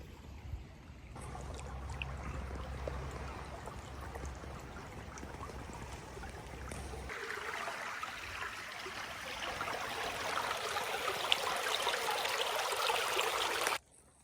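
A creek flows steadily with a continuous trickling, babbling wash of water, close and even, with a low rumbling patch early on and a slightly brighter splash later, on a woodland scouting walk.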